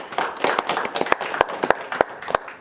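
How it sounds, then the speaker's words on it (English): Students clap for their parents at a school gathering, a loose patter of individual handclaps rising and falling over a couple of seconds, moderately close with no talking. "kids, I want you to give your parents a round of applause for being here"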